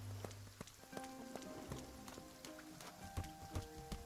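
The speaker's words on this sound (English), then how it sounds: "it's obviously pouring down, and it's pouring down with rain" Pouring rain in a cosy village video game demo hisses steadily, with scattered sharp taps and soft hollow knocks rising through it and faint tonal notes in the background.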